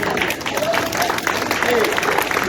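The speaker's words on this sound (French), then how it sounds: "je demande d'applaudir les 2 autres enfants qui n'ont pas été appelés sur le podium" An audience at a children's aquathlon podium ceremony claps in a sustained burst of applause, with a voice speaking over it.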